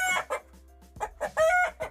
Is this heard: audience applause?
no